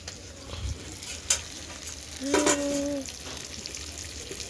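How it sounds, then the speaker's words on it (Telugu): Pieces of goat head meat and brain fry in a pan with a continuous hiss, a spoon clanking and stirring, and a short tonal squeak midway, with faint background voices. "ఈ ముక్కలు అయితే ఫ్రై అయిపోయాయి ఇప్పుడు మనం ఈ మెదడు వేసుకుందాం"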